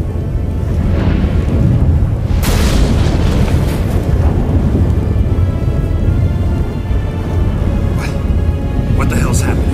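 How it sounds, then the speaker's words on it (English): A storm in a Witcher scene: loud, steady rumbling rain roars throughout, broken by a sharp thunderclap near the start and fainter crackles toward the end, with voices faintly beneath. "That a storm?"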